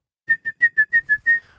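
A person whistles seven short, clear, evenly spaced notes at nearly the same pitch, the last held slightly longer and trailing off. The whistle is close and alone, with no talk.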